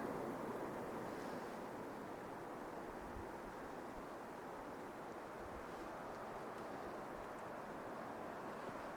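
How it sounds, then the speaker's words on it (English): Steady broadband rushing of a mountain stream tumbling over rocks near Bear Creek Spire in the Sierra, continuous and fairly faint, with no voices. "Kept hearing what sounded like water coming down over here."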